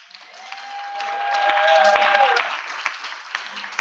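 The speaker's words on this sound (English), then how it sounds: "clap your hands for this amazing saxophonist, Mr. Mark Spurlock." An audience at a live financial literacy event applauds a saxophonist, a dense wash of clapping that swells to a peak and then thins out, with faint crowd voices underneath.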